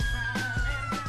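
Emergency sirens play in a filmed scene recreating a shooting at a park, a steady high wail running throughout beneath dull low thumps.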